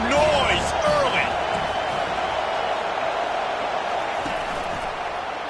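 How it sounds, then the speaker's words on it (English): A football video game stadium crowd roaring loudly and steadily throughout, a dense wash of cheering noise with a commentator's voice talking over it at the start. "This crowd bringing the energy and noise early."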